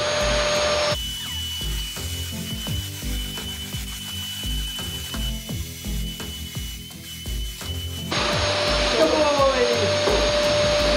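A vacuum cleaner roars loudly as it is used on a horse, its motor briefly dropping to a lower, rattling whir before surging back to a high-pitched whine.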